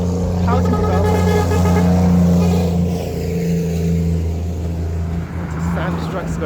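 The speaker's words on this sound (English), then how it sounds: "Just sand trucks going by" Heavy sand trucks rumble past a housing development at Farm, East Bank Demerara, Guyana, their engines a loud, steady drone that swells and eases as they pass, with a voice talking over them.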